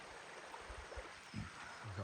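A river runs beside a campsite on the Cape Wrath Trail, a faint, steady broadband rush with a few low gurgles and splashes rising through it.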